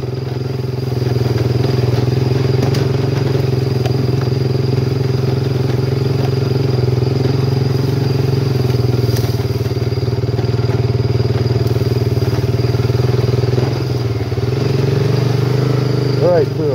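Honda TRX300 ATV engine droning steadily in low gear while crossing ice, a loud continuous near rumble with light clatter and thumps from the terrain, people talking over it.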